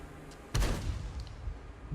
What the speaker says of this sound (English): look at this explosion